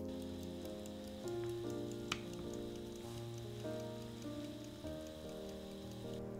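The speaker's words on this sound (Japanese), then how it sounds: "沸騰したらこのまま弱火で5分ほど煮ていきましょう。" Miso ramen soup simmering gently on low heat in a pot, a steady soft bubbling hiss with faint light pops, continuous and close, with no voices.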